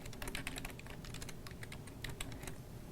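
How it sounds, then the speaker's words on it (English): Computer keyboard being typed on, quick irregular clicks of keystrokes in short bursts, fairly quiet and close, with no voices. "click in the search for box, and type Jane Austen"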